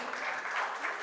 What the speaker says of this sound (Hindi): आइए एक बार जोरदार तालियों से इनका स्वागत करें।